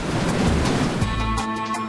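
Steady broadband roar of surf and breaking waves on the Cornwall coast, loud and continuous, with a rushing wash throughout and no voices.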